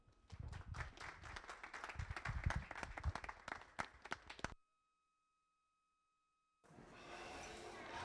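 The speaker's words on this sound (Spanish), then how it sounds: "que lo recibamos con un buen aplauso" An audience breaks into dense, lively applause welcoming a speaker at an evening tech talk, many hands clapping steadily for several seconds before the sound cuts off abruptly; after a silent gap a muffled room noise resumes.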